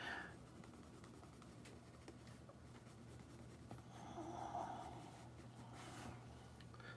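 A pencil scratches and scribbles softly on paper during a live drawing session, a faint, close, continuous rasp with a slightly louder stretch of strokes midway, over a low background hum and with no talking.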